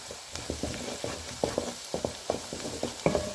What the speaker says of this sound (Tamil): இப்போ வெங்காயம் நல்லா வதங்கிட்டு இருக்கு பாருங்கள்